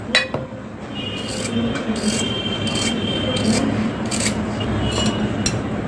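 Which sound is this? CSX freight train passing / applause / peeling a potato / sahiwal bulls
peeling a potato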